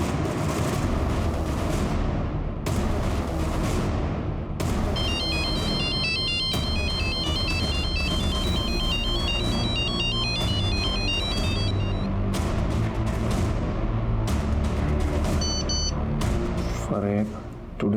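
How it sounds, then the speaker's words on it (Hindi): Mobile phone ringtone playing loudly and repeatedly without being answered, a bright electronic melody looping over a dense, dramatic background score in a TV crime drama scene. "अपना फोन भी नहीं पिक कर रही है।"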